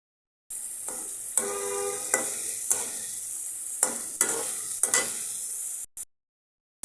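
Fish sizzles in hot oil with spices, stirred with a spatula whose scrapes come in sharp strokes over a steady frying hiss; close and fairly loud, stopping abruptly near the end.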